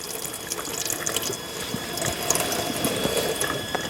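Filtered water streams steadily from a tap into a sink, a continuous hiss and splash with faint clicking, close and moderately loud without speech.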